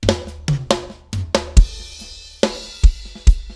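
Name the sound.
snare drum with enveloper plugin in Logic Pro X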